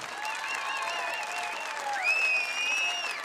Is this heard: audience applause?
yes